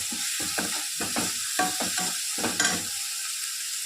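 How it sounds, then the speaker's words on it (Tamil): Onions and tomatoes sautéed in a pan for crab gravy, with rhythmic spatula stirring strokes over a constant close sizzle, about eight scrapes in quick succession, no voices. "நல்லா வெங்காயம் தக்காளி 2 நல்லா வதங்கணும்."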